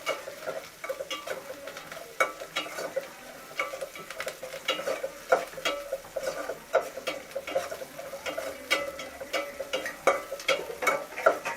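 Onions and green chilies being sautéed in a pan, a soft steady sizzle under frequent scraping and clinking stir strokes of a spoon against the metal, fairly quiet and close.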